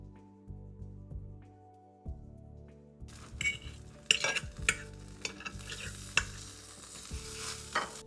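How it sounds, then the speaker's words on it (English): High protein pancakes cooking in a pan, with a steady soft sizzle, stirring, and repeated clinks of utensils against dishes close by, without any talking. "So while the next pancake cooks,"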